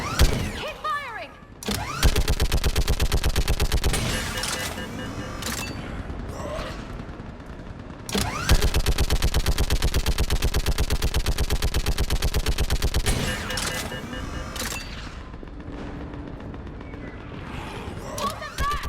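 Sustained automatic gunfire in a Mass Effect Legendary Edition battle comes in two long loud rattling bursts, with single shots, impacts and shouted voices in between and after.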